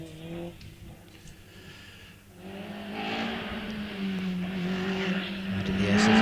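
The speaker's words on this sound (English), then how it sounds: "Now striding out across the parkland is Aaron Colburn with the Van Diemen RFO2 FX 2-litre machine" Van Diemen RF02 FX 2-litre race car at a parkland hillclimb, its engine note rising as it accelerates and draws nearer, growing louder and more insistent toward the end.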